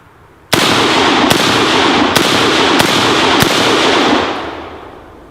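Five loud AK rifle gunshots fired at a propane tank target outdoors, sharp cracks spaced under a second apart over a sustained roaring hiss that fades out at the end.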